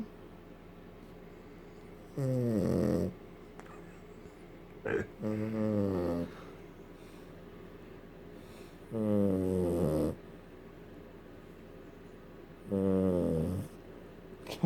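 A small dog snores while asleep, four drawn-out snoring breaths spaced a few seconds apart, close and clear over quiet room noise.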